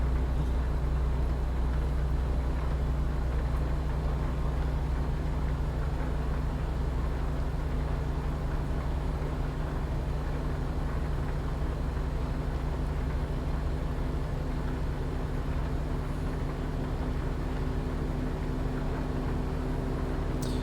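A small minivan engine in a video game drones steadily, loud and low, with a constant hum and no speech over the whole stretch.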